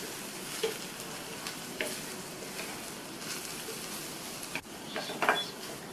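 Chopped snake gourd coated in masala powder sizzles and fries in a pan, a steady close crackle with a few soft scrapes and clinks of stirring, no voices.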